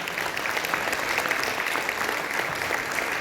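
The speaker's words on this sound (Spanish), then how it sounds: "Fuerte aplauso para la felicidad." Warm, even applause from an audience at a tribute ceremony honoring a Guarani community figure, a bright steady crackle of many hands, fairly soft and without voices.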